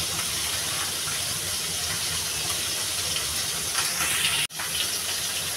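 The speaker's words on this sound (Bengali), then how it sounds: "মাছটাকে সুন্দর করে ভেজে নেব।" Singhi fish frying in a pan gives a dense, steady, rushing hiss heard up close and alone, broken by one sharp momentary dropout near the end.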